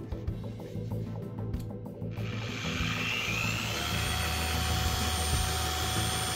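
A Nanoskin Microbuff orbital polisher on its high setting, a loud, steady electric whine and whir that starts up partway through and then holds a continuous, close drone with no talking.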